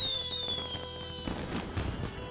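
Character exploding like fireworks against the night sky in The Secret of Monkey Island Special Edition: faint whistling descending tone followed by a burst of crackling pops, quiet and distant.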